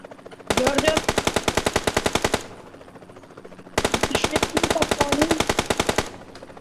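Heavy automatic gunfire in PUBG Mobile, two long rapid bursts of evenly spaced shots separated by a short pause, loud and close with nobody speaking.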